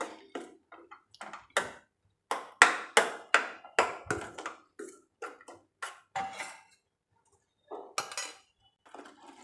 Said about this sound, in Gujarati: હવે બંનેને મિક્સ કરી લઈએ।